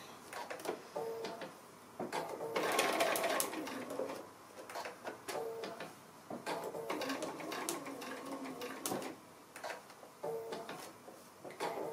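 Sewing machine stitching 2 1/2-inch fabric strips for a quilted noughts-and-crosses game, faint rapid whirring runs in several short bursts, with clicks between stitching passes.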